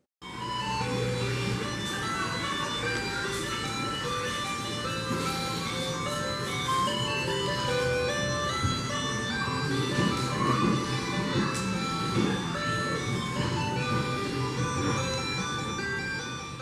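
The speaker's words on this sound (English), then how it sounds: "the tent with 50-year-old kids rides with super creepy music" Tinny, looping carousel music from old kids' rides plays continuously at a zoo in Fukuoka, Japan, a steady jingly melody at moderate distance with faint background noise.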